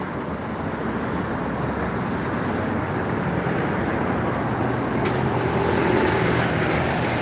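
Steady, dense roadway rumble from congested traffic in Gloucester, continuous engine and tyre noise at moderate level with no distinct pauses and no talking.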